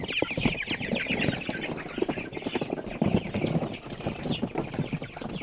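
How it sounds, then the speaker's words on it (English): Chickens clucking steadily on wet green grass outdoors after rain, several birds close by with a busy, continuous chatter of clucks and brief wing flaps, no talking. "This chicken is fat and happy."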